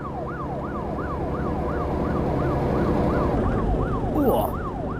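A police car siren in the virtual reality game Meta City Patrol wails steadily in a rising and falling pattern, loud and close over continuous engine and traffic rumble, with a brief crash-like burst near the end.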